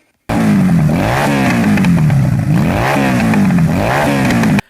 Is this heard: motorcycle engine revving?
yes